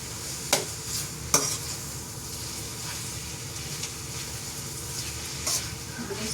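Spaghetti sauce frying in a hot pan gives a steady close sizzle and hiss, with a few sharp clinks of a utensil against the pan near the start and again near the end.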